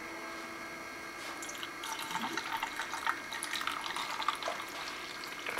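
Water is poured slowly into a homemade Heron's fountain, a soft, continuous trickle and splash that builds gently and stays fairly quiet throughout.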